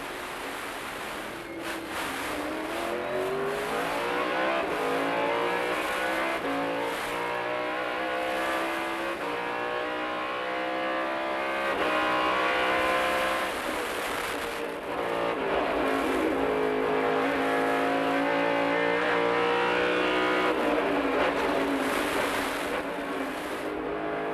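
Onboard a Rolex Sports Car Series race car at Mont-Tremblant during a six-hour race, the engine roaring loud and close as it revs up and down through gear changes, with rising and falling pitch sweeps throughout.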